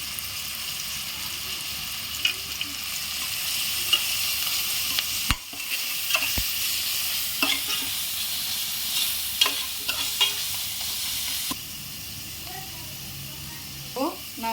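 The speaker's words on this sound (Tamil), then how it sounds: "வெங்காயம் கொஞ்சம் வதங்கணும்" Onions sauté with ground masala in a pan, a steady moderate sizzle under a string of quick spatula scrapes and taps, including a couple of sharp knocks midway, with a voice talking over the cooking.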